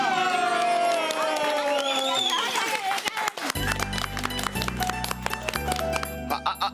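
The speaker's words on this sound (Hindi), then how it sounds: "तो हो जाए चौबे जी के लिए जोरदार तालियां।" Applause breaks out for a weekly game-show winner: after speech and music, dense clapping with rhythmic beats fills the last few seconds, moderately loud.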